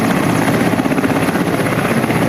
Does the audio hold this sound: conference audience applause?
no